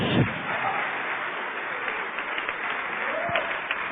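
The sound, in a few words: church congregation applauding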